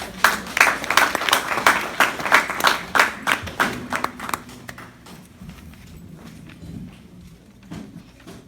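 A church congregation claps in steady rhythmic unison to acclaim the Lord, loud and close at first, then thinning into scattered, fading claps.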